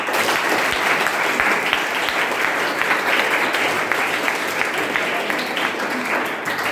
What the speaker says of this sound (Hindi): तो सर के लिए एक तालियां हमारी तरफ से हो जाए।